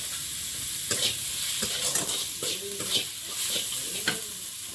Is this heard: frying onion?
yes